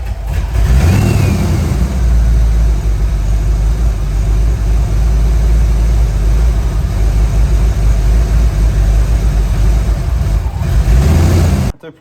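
A Foxbody Ford Mustang 5.0 GT V8 engine running loud and close, a deep rumbling idle with rough low pulsing that holds steady for about eleven seconds before cutting off abruptly.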